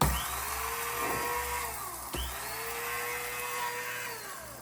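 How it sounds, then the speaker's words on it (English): A small electric spice grinder whirs as it grinds regular oats into flour, a steady high motor whine running continuously, briefly dipping and restarting in short pulses, close and fairly loud with no talking. "So I'm gonna put my regular oats in my spice"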